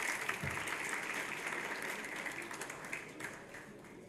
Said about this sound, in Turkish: Alkışlıyoruz arkadaşınızı.